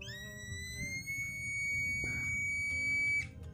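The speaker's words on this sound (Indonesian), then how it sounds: "si rangkaian komponen buzzer dan LED-nya ini akan menyala" A buzzer in a rain detector circuit, set off when a wet cloth touches the sensor, sounds a steady high-pitched electronic tone for about three seconds over low background hum, then cuts off abruptly.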